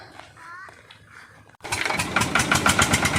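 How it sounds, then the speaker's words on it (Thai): An engine cranks and catches after a moment of quiet, then runs loud and rough with a steady rumble, following a short stretch of faint background activity. "สตาร์ทเครื่องแล้ว"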